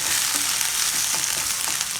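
Onions roasting in a pan for Hakka noodles hiss with a loud, dense, continuous sizzle close up.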